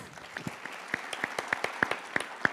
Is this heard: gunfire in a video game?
no